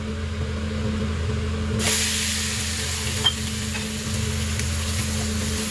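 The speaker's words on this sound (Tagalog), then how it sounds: "I-half fry muna din kagaya ng potato." Chicken wings, cleaned and unmarinated, go into hot oil for a half-fry. A sudden loud sizzle bursts in and holds as a steady close hiss with faint crackles over a low hum.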